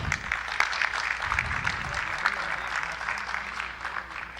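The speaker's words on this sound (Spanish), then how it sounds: "lo despedimos con un fuerte aplauso" Applause from a crowd at a campaign launch event, steady and dense clapping filling the room for a few seconds, with a voice briefly audible at the start.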